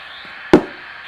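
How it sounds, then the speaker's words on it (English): A single sharp knock on a box, close and distinct, standing alone against a faint steady background hiss. "Knock once on the box when you are ready to proceed."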